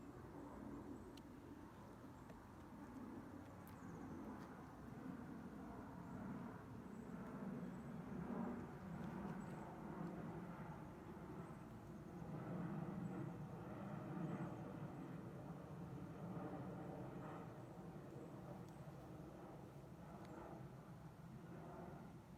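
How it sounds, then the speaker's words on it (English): An airplane passes overhead as a steady, broad low roar that swells gently and fades across about twenty seconds, faint and distant outdoors. "There's a plane going by."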